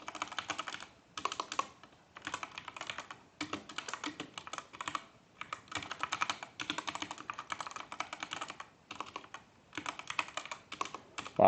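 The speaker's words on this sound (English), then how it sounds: "Wow, I just really can't type today." Computer keyboard typing while writing Java code comes in bursts of quick, close clicks separated by short pauses, a light rattling patter with no talk over it.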